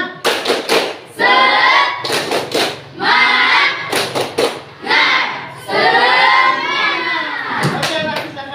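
A high school class performs a rhythmic spirit clapping chant, loud group voices shouting in unison between bursts of sharp patterned hand claps, close and energetic.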